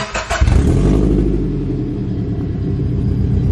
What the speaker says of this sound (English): let's go ahead and rev her up